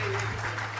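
Audience applause at a business expo talk, a brief burst of dense clapping over a low steady hum.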